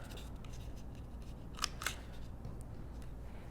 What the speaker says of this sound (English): And then I'm going to round my 2 bottom corners.